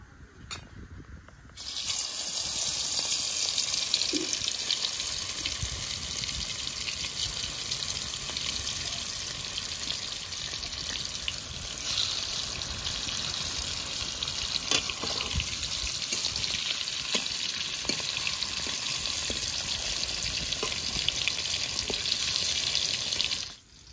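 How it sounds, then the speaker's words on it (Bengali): Whole bitter gourds fry in hot oil, giving a steady, loud, close sizzle that starts after a short pause and runs almost unbroken to the end, with no talking. "তেল গরম হয়ে গেছে, এখন উচ্ছেগুলো ভেজে নিচ্ছি।"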